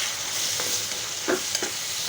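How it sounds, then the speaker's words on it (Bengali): Spices being stirred as they fry in a pan in a home kitchen: a steady sizzling hiss throughout, with a few soft scraping strokes of the spoon at irregular moments, fairly close and without speech. "এখানে একটু নাড়াচাড়া দিয়ে নিই।"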